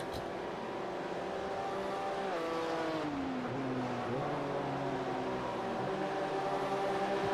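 Race cars roar around Sebring in iRacing, engines droning loud and close with pitch sliding up and down through gear changes and passes, one sustained blend of several motors.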